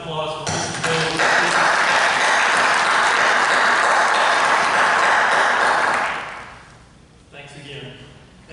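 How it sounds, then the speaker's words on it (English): An audience at a school district meeting gives a dense burst of clapping that lasts about five seconds, then dies away as voices talk. "Can we get a round of applause for Mrs. Mills?"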